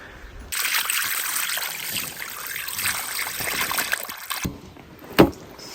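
Water gushes out of a goatskin butter churn in a village, a close, splashing pour lasting several seconds before it stops, followed by a sharp knock.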